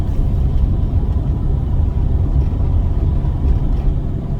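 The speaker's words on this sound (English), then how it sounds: "These tyres, oh, they're so out of round." A Jaguar XJS V12 rolls along on out-of-round tyres, making a loud, continuous low rumble and drone from inside the car with a steady bumping undertone, and no voices.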